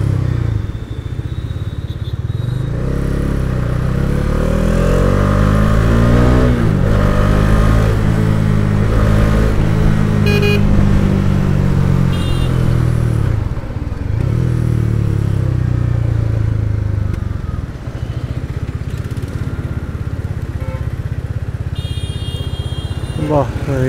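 A Bajaj Dominar motorcycle engine fresh from servicing runs loud and close, rising and falling through revs with steady low rumble for most of the clip, with occasional clatter.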